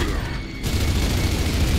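A grenade blast in the shooter game Gears of War 3, heard as a dense, rumbling boom that fills the short stretch, loud and close with a low roar continuing after the burst.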